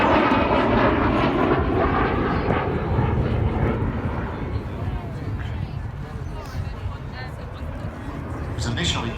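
de Havilland Vampire T11 twin-tail jet trainer flying at the Midlands Airfestival 2022, its engine a loud broad roar that slowly fades as it passes, with crowd chatter and a voice talking underneath.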